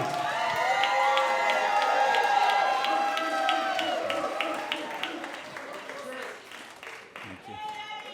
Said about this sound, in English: Let's cheer for Eddie.